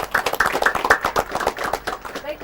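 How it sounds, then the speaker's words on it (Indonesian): Audience clapping at a televised regional dialog forum in Banten, Indonesia, a light scattering of individual hand claps in an uneven rhythm that thins out toward the end. "Tepuk tangan untuk kita semua."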